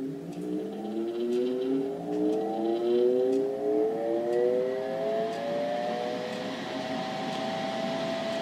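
Loud cooling fan in a homemade benchtop power supply with voltmeter, ammeter and current limit, spinning up with rising whine and harmonics before holding a steady close drone.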